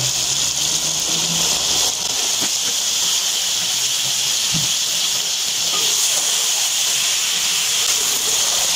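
Cumin seeds sizzling in hot oil for a tindy gosht curry, a loud, steady, bright hiss that runs throughout, with a brief voice underneath.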